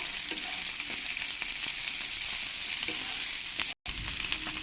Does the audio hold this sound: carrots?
yes